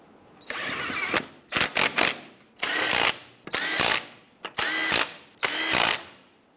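A power tool runs lug nuts down onto a wheel of a 1995-2001 Ford Explorer in short, rapid whirring bursts. About nine separate bursts come close to the microphone, with brief pauses between them and no talking.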